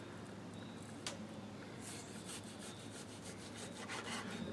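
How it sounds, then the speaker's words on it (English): A knife slices through partially frozen beef for jerky, cut into quarter-inch strips, giving a steady series of soft rasping strokes, close and fairly quiet against a low background hum. "let me see if I can cut 1/4 inch slices"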